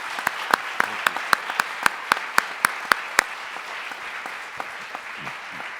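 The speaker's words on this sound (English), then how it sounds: "Let's do one round of applause." Small audience at an executive panel discussion with a Catholic finance association clapping in an evenly spaced rhythm of about a dozen sharp claps, then trailing off into quiet room noise.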